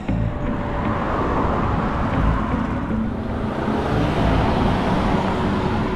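A car comes up from behind on a rural road through sheep country near Wanaka, New Zealand, a loud, continuous rush of tyre and road noise lasting the whole stretch, with no talking.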